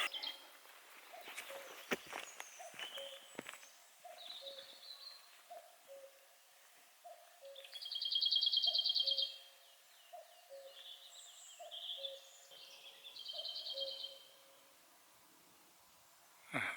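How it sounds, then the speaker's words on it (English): A cuckoo calls in a forest, its soft two-note calls repeating steadily at a distance, with other birds chirping and trilling faintly around it. "At a certain time, it's a cuckoo calling."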